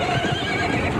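A horse whinnies loudly and close by, one sustained neigh with no talking.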